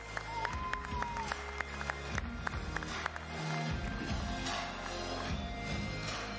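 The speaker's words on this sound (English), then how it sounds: "Make some noise for In Control" A live crowd at a gaming event applauds and cheers as an RTS player is introduced, a steady wash of clapping filling the room, with a voice heard over it.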